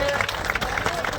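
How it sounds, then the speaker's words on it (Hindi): A crowd claps for a minister at the inauguration of a petrol pump in Sewatha village, a brief burst of applause mixed with voices and a faint tone. "तालियों से सम्मान करेंगे।"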